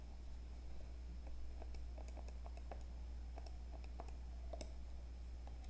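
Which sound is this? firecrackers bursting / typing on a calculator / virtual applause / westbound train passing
typing on a calculator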